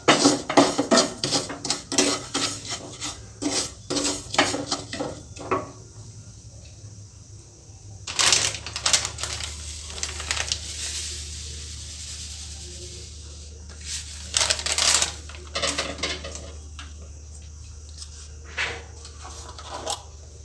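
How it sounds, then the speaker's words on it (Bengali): Semolina dry-roasting in a pan for ghee halwa, with scraping and rubbing strokes of a spatula against the pan, dense at first, then sparser with quiet gaps, close and without talk. "আমি সুজিটাকে ভালো করে ভেজে নেব।"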